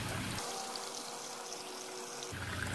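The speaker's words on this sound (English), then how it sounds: "There's the water coming up." Water pouring and trickling steadily as it fills an aquaponics bell siphon in a hybrid system, a continuous close splashing stream throughout.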